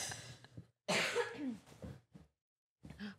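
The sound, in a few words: cough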